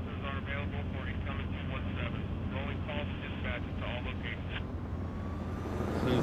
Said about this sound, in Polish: Helikopter nawet leci.